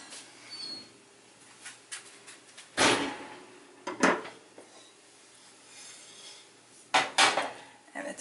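A loaf of sourdough bread made with all-purpose flour goes back into a 230-degree oven, with several sharp metallic clanks and scrapes of pan and tray against the rack, separated by quieter rustling handling.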